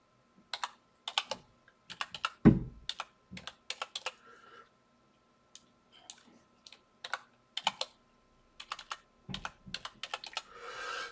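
Someone types a password on a computer keyboard in short bursts of crisp key clicks, separated by brief pauses, close and clear in a quiet room.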